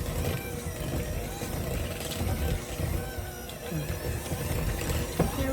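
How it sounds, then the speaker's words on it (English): Electric mixer on speed 5 whirring steadily as it smooths cream cheese, a constant close mechanical drone with faint clatter throughout. "I'm going to go ahead and stir it up first just to make sure it gets smoothed out"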